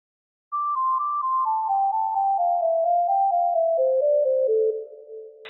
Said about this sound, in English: This ear candy lead which sounds so good.